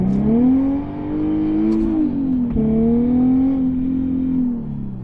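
Car engine revving after a JWT HD slave cylinder and street clutch install, a steady loud drone that climbs slightly then drops back, RPMs falling away quickly between pulls.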